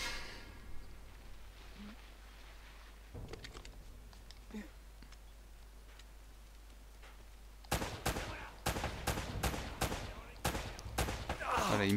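Gunfire in Uncharted: Drake's Fortune: a quiet, faint stretch with scattered small sounds, then a rapid string of sharp, loud shots in the final few seconds.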